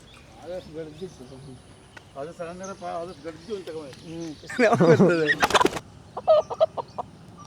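A chicken clucks and squawks loudly at close range, flapping briefly, while people talk nearby before and around it, at a household puja where the chicken is to be sacrificed.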